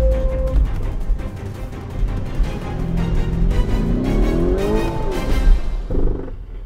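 A Lamborghini Urus 4x4 SUV with a V8 engine crawls off-road over an axle-twister obstacle, its engine rumbling steadily up close with rising and falling revs, brief tire scrubbing and creaks near the end.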